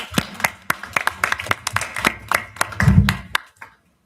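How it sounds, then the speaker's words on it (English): A small group claps at a board of education meeting, distinct individual hand claps in a loose, uneven rhythm, fairly close, tapering off and stopping near the end. "Let me clap. Round of applause."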